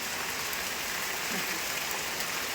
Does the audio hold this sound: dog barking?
no